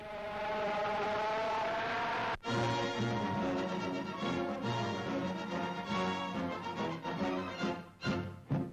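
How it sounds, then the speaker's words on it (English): Speedboats race for a gold trophy in rough water, their engines droning loudly and continuously in a strong harmonic whine, with a brief break and then bursts of roaring as boats pass; old newsreel sound. "the spills are all a part of the thrills when the speedboats race for the gold trophy"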